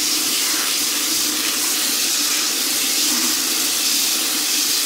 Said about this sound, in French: On va voir en combien de temps on remplit le seau.